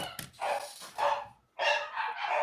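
Dogs bark in a quick burst of loud, close yips and woofs, likely set off by a package delivery at the door, then fall briefly quiet before barking again.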